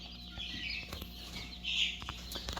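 Newly hatched chicks peep and cheep in a small temporary brooder, with soft chirps and light fluttering close by and one louder burst of peeping midway.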